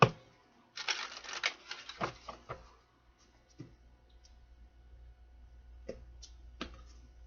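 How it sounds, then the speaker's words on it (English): Tarot cards are shuffled close up in a quiet room: a flurry of crisp riffling snaps, then a few isolated taps and clicks as the deck settles, with no talking. "One more shuffle"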